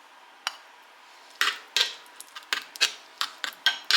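Mashed potatoes go into a small iron skillet, giving a series of light scattered clinks and scrapes of utensil against the pan, quiet and close, with no voices.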